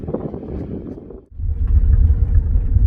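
A vehicle engine rumbles low and close. After a brief drop it catches and settles into a heavier, steady idle-like drone, as for slow driving, with no talk.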